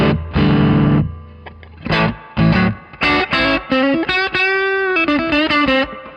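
An overdriven electric guitar plays chords and short phrases through a crunchy, distorted amp, with choppy bursts and sustained ringing notes.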